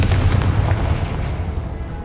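Confringo fire spell exploding in the Hogwarts Legacy video game, a short loud booming burst with deep low rumble that tails off over a couple of seconds.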